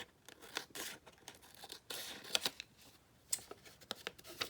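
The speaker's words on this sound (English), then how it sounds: "Just maybe cut off this wrinkled part." Scissors snip and crinkle through a wrinkled vintage paper sewing pattern, close and quiet, in short irregular cuts and rustles.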